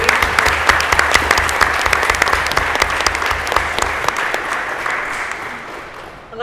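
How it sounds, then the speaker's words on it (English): Audience applause at a suicide-prevention training panel, loud and dense clapping that holds steady and then tapers off near the end. "You guys just applaud her bravery."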